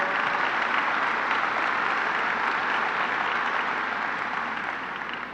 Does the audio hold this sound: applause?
yes